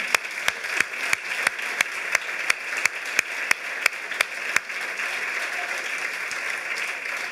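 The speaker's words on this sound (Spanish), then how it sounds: "hay que dar un aplauso porque es una máquina" Rhythmic applause from a studio audience at a Spanish talk show, with sharp, evenly spaced unison claps for about four and a half seconds before dissolving into looser scattered clapping.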